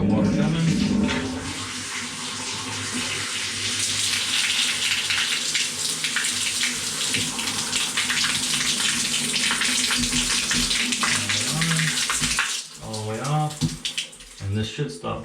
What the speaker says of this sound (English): We got water coming.